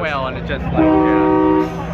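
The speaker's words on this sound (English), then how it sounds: "That's a train horn." A loud, steady train horn blares at a supercar show, holding one multi-tone chord for about a second before cutting off, while people talk over it.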